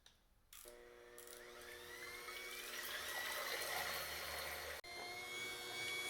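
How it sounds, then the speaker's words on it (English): An electric mixer whips egg whites and sugar for a meringue, a steady whirring buzz with faint rattling of beaters in the bowl that builds slightly, then cuts out briefly near the end and resumes. "I'm going to start whipping the whites and adding half of the sugar"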